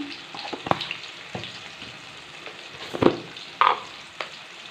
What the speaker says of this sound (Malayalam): ഉള്ളി ഒന്ന് വഴ വഴണ്ട് വന്നിട്ടുണ്ട് കേട്ടോ ഒരുപാട് ബ്രൗൺ കളറാക്കി ഫ്രൈ ആവുന്നു വേണ്ട